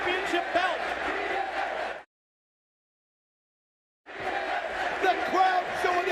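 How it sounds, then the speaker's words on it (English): Crowd at a TNA Slammiversary 2007 wrestling event roaring in appreciation after a ladder move, loud and dense, cutting out completely for about two seconds before the cheering resumes at the same level. "The crowd showing their appreciation."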